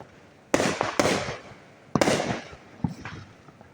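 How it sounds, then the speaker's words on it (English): Fourth of July fireworks burst in a series of sharp, loud booms and crackles, four or five explosions in quick succession with fading tails between them, no talking. "Fireworks again."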